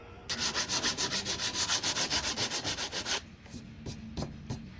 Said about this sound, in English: so I'm just going to sand it all down